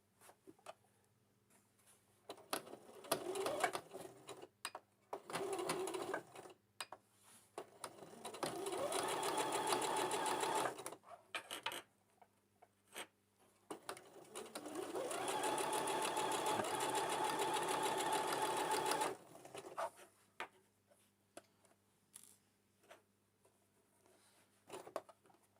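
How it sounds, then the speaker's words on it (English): A sewing machine stitching around the top edge of a fabric Christmas stocking, running in long steady whirring bursts broken by pauses and quiet handling clicks, close and fairly loud. "you need to sew about, let's say, 1 centimetre all the way around the top edge there"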